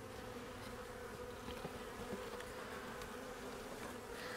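Honey bees buzz steadily and densely around an opened hive during an early-season deep inspection, a close, continuous drone with no pauses.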